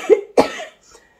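A person coughs twice in quick succession, close and fairly loud, then falls briefly quiet.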